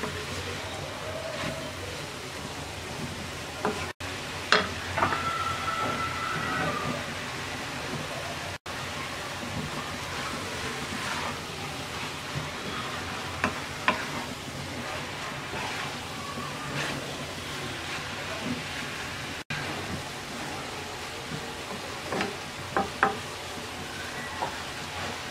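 Cabbage and potato with dried shrimp and chopped coriander stirred in a pan over a quiet, steady sizzle, with occasional soft scrapes and clicks of the utensil.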